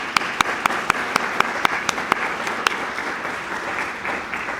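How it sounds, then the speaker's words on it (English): Audience applause at a facilities forum: a run of sharp, distinct claps from a small crowd at a steady pace, thinning out after a few seconds, with no talk. "please join me in a round of applause for Ashley Ross."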